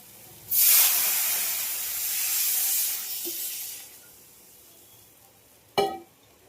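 Water poured into a pan of frying soybean curry sets off a loud, sudden burst of hissing steam that slowly fades over a few seconds, followed by a brief clatter.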